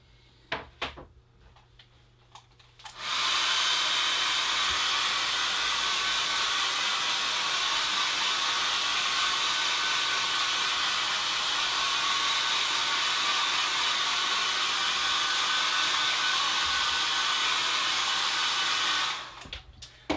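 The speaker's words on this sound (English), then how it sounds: "I'm going to give this a bit of a blast with a dryer" After a few quiet clicks and handling sounds, a hairdryer switches on and blows steadily and loudly for about sixteen seconds over a watercolour poppy painting, then cuts off.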